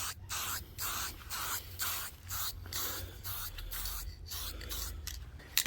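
Short bursts of an aerosol spray can hiss in quick succession as coating goes onto parts of a 1996 Mitsubishi Mirage Asti ZR, each puff close and separated by brief pauses.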